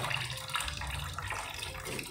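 Milkfish being rinsed in water, a soft continuous splashing and running-water wash, fairly quiet and steady with no voices.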